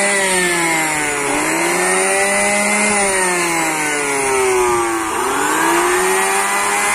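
An electric air blower inflates a large monster balloon, giving a loud, steady droning whine with strong harmonic tones that dip and shift in pitch twice as the load changes, running without pause.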